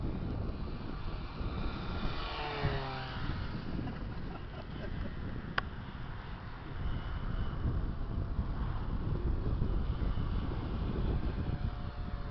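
A small model airplane on its second flight, its motor droning steadily at a distance beneath heavy wind buffeting on the microphone, with a pass that rises and fades.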